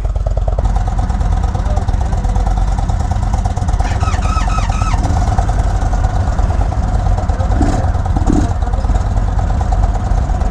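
A 2022 Indian Chief motorcycle engine drones steadily throughout a ride through Arizona canyons, a loud continuous low rumble with wind roar, plus a few brief chirping sounds partway through.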